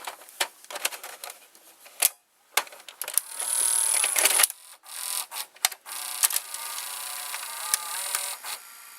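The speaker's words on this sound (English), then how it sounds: "we're going to insert a VHS tape in this Emerson VCR" A VHS tape slides into an Emerson VCR, giving a run of plastic clicks, a mechanical whir as the loading mechanism draws it in, and a few sharp clacks, close and clear with no talking.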